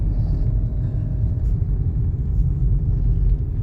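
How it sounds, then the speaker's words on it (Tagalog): Road traffic on a busy Manila street near Quiapo: a steady, dense rumble of car engines from nearby vehicles, continuous with no voices. "Ayun, ang traffic oh"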